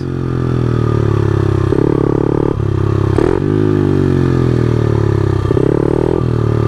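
A motorcycle engine holds loud and steady through a first-gear wheelie, with throttle blips and pitch shifts rising and falling throughout.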